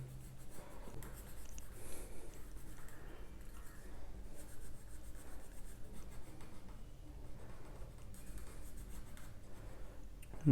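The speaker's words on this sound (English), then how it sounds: "darken these with that blunt pencil" A blunt pencil scratches and rubs across paper while darkening a dog drawing, a soft, continuous, close-up scraping with small rhythmic strokes and no voices.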